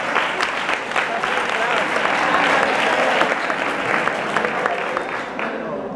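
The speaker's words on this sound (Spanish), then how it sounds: "¡Aplaudidme otra vez!" A crowd claps steadily and loudly after a performer singing an a cappella cuplé asks for more applause, with voices mixed into the sustained clapping.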